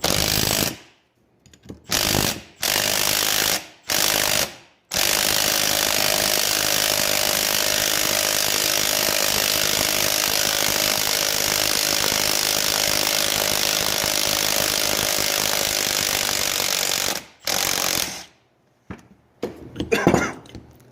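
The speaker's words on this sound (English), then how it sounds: "Obviously, you don't have to use an impact wrench, but hey, it helps." An impact wrench takes the power steering pump pulley off a 6.0 Powerstroke diesel, with a few short whirring bursts followed by a long, loud, steady buzzing run, then more short bursts.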